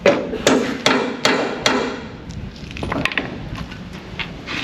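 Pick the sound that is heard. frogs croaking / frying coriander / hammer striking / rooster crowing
hammer striking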